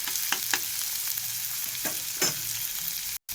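Fish sizzling and frying in a pan with capsicum and potato, a steady close crackle broken by a few sharper stirring scrapes, with no talking.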